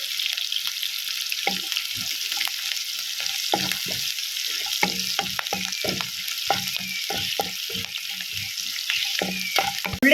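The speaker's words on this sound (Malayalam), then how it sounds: "കുറച്ച് കരിയാപ്പില ഇട്ട് കൊടുക്കുക നന്നായിട്ട് സവള നന്നായിട്ട് വേണം പാടണം" Sliced onions and curry leaves sauté in oil for a Kerala mango curry, giving off a constant crackling sizzle with irregular scrapes and stirring taps of a spoon against the pan, close up and without talk.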